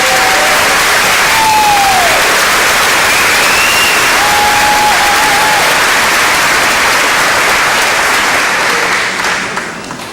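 An audience at a middle school promotion ceremony applauds steadily for about ten seconds, a dense wash of clapping with a few faint cheers before it fades at the end.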